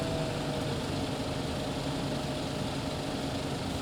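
A farm tractor engine idles steadily in a farming simulation game, a low, even drone running unchanged throughout at modest level with no speech over it.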